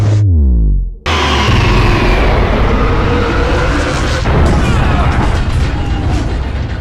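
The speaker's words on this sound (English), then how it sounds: "it has one of the best explosions I've ever seen." Huge animated explosion from a Star Wars: The Clone Wars episode erupts in a deep boom after a brief lead-in, then rumbles and crackles loudly with debris for several seconds.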